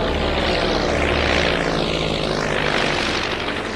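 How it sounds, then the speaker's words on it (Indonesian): A propeller airplane flies past in an action-film scene, its loud droning engine and buzzing airscrew swelling and sweeping in pitch as it passes close, with no talking. "Atami pun memaksa si pilot untuk menerbangkan pesawat"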